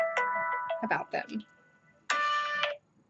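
A mobile phone rings indoors in two bursts of a bright melodic tone, the second held longer, with someone speaking briefly between them.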